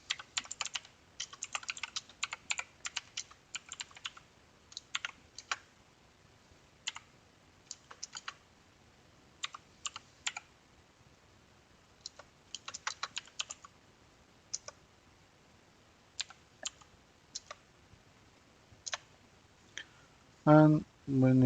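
Keys on a computer keyboard tapped in scattered bursts and short runs while code is entered, crisp close clicks separated by pauses, ending with a brief louder thump.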